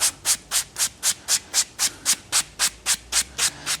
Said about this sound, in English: we simply sand it with our sanding block, our leather sanding block